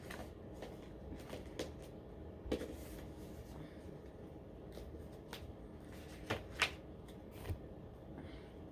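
A deck of Kipper cards being shuffled, soft papery riffles and slides with a few sharper slaps and taps, close and quiet against a hushed background.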